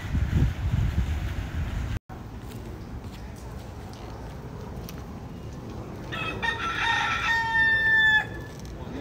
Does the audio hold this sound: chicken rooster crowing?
yes